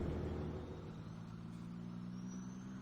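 An old truck engine hauling a load in Farming Simulator 17, a steady low rumbling drone, close and continuous throughout.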